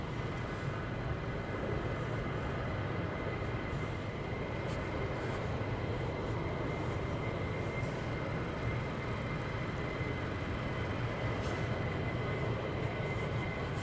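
A fighter jet taxis at RAF Lakenheath, heard as a constant, distant engine roar and hum that holds steady for the whole stretch with no break.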